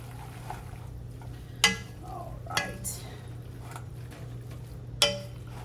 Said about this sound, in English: we're just gonna get this seasoning blend mixed in through here